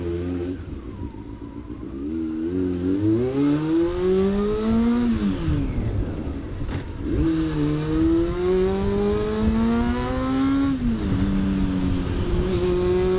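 A Honda CB400 SF motorcycle engine revs while riding through Tokyo streets, loud and close, rising and falling through several gear changes with a steady four-cylinder whine and a brief dip between shifts.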